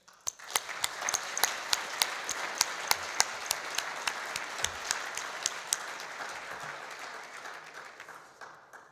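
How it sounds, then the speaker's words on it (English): Dinner guests at a society's annual dinner applaud steadily, a dense patter of many hands with sharp individual claps standing out, moderately distant and fading slightly toward the end. "Please give a round of applause to both of you."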